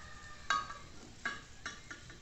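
A little dendê palm oil sizzles softly in a pan while beiju is being made, with a low steady hiss broken by a few sharp clinks of a utensil against the pan.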